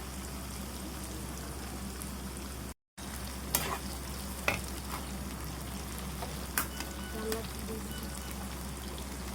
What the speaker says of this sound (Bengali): মাছের ডিম আসছিল, আমি এই ডিমটা আলুর ভিতরে দিয়ে এটা ভেজে নিব।